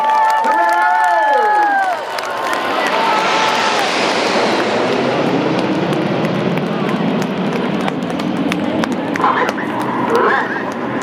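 Large outdoor crowd at the Sunderland Airshow 2015 claps and cheers for the Royal Air Force Red Arrows aerobatic team, a steady dense roar of applause lasting throughout, with a voice speaking briefly at the start.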